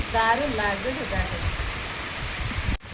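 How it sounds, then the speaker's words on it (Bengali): Heavy rain pours down outdoors near a pond, a dense steady hiss that continues under a brief burst of talk at the start. "দেখুন কত জোরে বৃষ্টি চলে এসেছে।"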